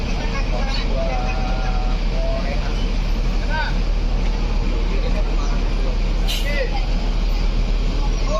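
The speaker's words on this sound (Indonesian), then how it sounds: "Masuk cepat 2 unit bus Gumarang Jaya." Two Gumarang Jaya buses pull in at a bus terminal, a continuous heavy engine rumble with traffic noise and brief hissing, while someone speaks over it throughout.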